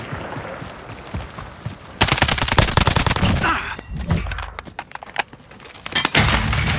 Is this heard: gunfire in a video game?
yes